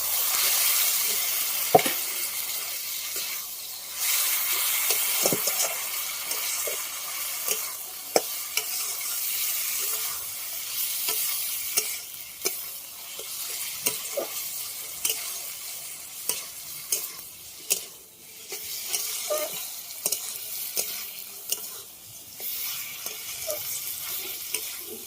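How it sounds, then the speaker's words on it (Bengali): Jackfruit chicken curry in a pan with hot water added, giving a steady hissing sizzle, punctuated by frequent sharp scrapes and knocks of a spoon stirring, close and continuous without speech. "আমি গরম জল দেবো।"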